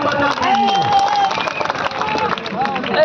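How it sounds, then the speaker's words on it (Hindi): Audience applause and cheering in honour of Nepal Mahato at a public gathering, a steady wash of clapping and crowd noise lasting throughout, with a whistle-like tone rising above it. "इनके नाम पर एक जोरदार ताली बजा दीजिए"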